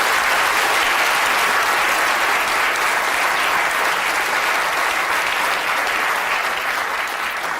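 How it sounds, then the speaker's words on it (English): An audience gives a big round of applause for a guest named Nathan, dense and steady clapping at close range that fills the whole stretch without pause. "give Nathan a big round of applause"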